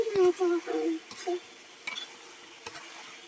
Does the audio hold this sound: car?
no